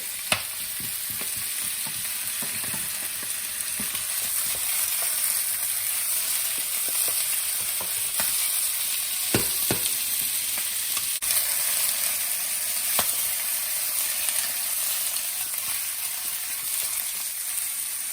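Chicken pieces browning in a hot pan for cola chicken give a steady, fairly loud frying sizzle with occasional stirring clicks and scrapes, heard alone without talk.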